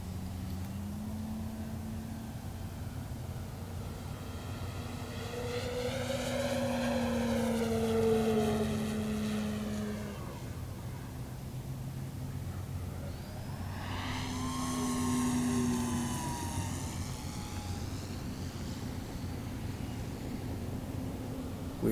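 An E-Flite Turbo Timber RC airplane flies past twice with an electric motor whine and propeller buzz. Its pitch rises and falls as it approaches and recedes, over steady background wind noise.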